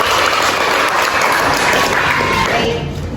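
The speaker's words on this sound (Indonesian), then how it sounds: "tepuk tangan" A school class applauds after a student's presentation on exposition: a dense patter of many hands clapping, fairly close and loud, fading out in the last half second.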